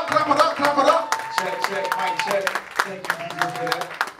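A crowd at a youth event claps for a performer in scattered, uneven bursts, under loud voices and cheering.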